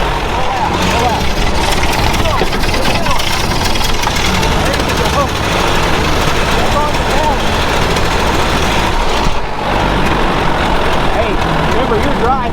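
A Ford Model T engine runs loud and close while the car is driven, a dense, rough, unbroken rumble with people talking over it.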